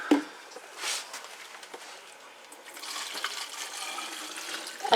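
Mushroom liquid and sauce pour from one jar into another, making a quiet, close trickle and splash that builds into a steadier stream toward the end, with no talking.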